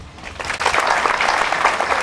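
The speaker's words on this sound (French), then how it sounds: "Tout applaudissement à ma mère pour cet accomplissement." Mourners at a funeral break into applause that swells quickly from a quiet start into full, dense clapping from a roomful of people.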